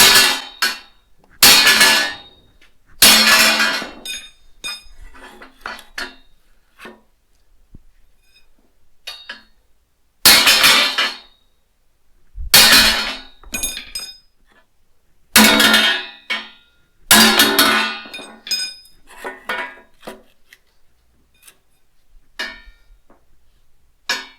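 Several loud metallic hammer strikes on a metal bar ring out in separate bursts, each leaving a brief ringing tail, with quiet pauses between the blows, during a Mustang II front end swap on a 1965 Chevy Nova.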